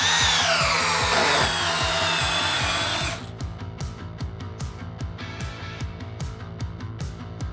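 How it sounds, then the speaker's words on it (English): A Milwaukee M12 cordless drill in drill mode on speed 2 whines under heavy load, then slows into a rhythmic clicking, ratcheting grind as it strains driving a 6-inch Spax screw into wood. "We're going to be first driving a 6-inch Spax."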